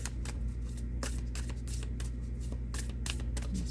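A Rose Oracle card deck is shuffled by hand, with rapid riffling flutters and soft card snaps repeating close up over a low steady hum, and no talk.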